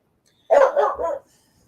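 Dogs barking indoors during a live stream from a car boot sale haul, a short burst of several close, loud barks and yips lasting under a second before silence.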